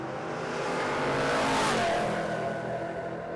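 A Torana drag race car roars past at a drag strip in Warwick, Australia, its engine noise building loud and steady to a peak midway and then easing slightly as it carries on, with no talking.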